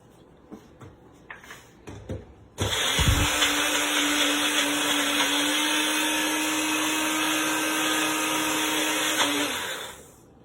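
A blender runs steadily for several seconds, whirring as it purées a chocolate avocado mousse, starting abruptly after a few faint clicks and handling sounds, then winding down near the end.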